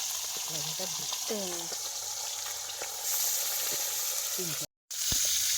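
Fish, tails and heads included, fry in hot oil in a pan at an outdoor Sundarbans island kitchen, giving a steady, fairly loud sizzle throughout, with brief utensil scrapes and a voice speaking over it.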